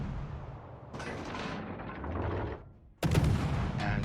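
Naval guns fire in the World of Warships video game, a loud sustained barrage of heavy booms from a Gearing destroyer's battle, with a brief lull before another sharp, powerful salvo erupts close up.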